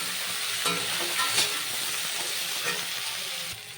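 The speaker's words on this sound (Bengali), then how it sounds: "এবার এগুলোকে আমি সুন্দর করে লাল লাল করে ভেজে নেব" Vegetables for a rui fish curry are fried and stirred in a pan until browned. The close, steady sizzle is punctuated by a few sharper knocks and scrapes of the spatula, and it eases off near the end.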